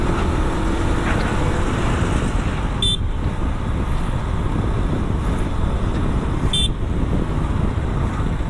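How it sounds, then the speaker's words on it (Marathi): Car horns honk twice in slow road traffic, short sharp toots a few seconds apart over a constant engine and roadway rumble, with faint voices in the background. "बाबा हॉर्न मारून काय फायदा आहे का सांग"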